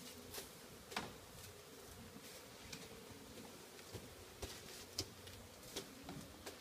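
Bees buzz steadily around a nest tucked into a bottom corner in Thailand, a soft continuous drone with occasional louder passes close by, no talk.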